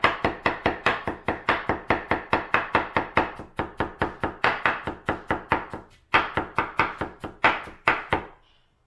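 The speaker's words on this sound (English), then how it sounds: "Next, we will do the cucumber. We chop off the head and bottom to slices." A knife chops a cucumber into slices on a board, the blade striking in a rapid, steady rhythm of crisp close thunks. The chopping runs continuously, with a brief pause just past the middle before resuming.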